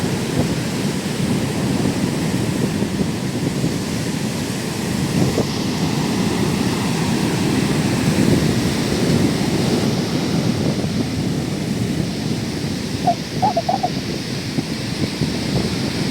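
Rough sea surging ashore in front of the Chembirika Juma Masjid, a steady loud roar of breaking surf with gusting wind noise throughout and no speech.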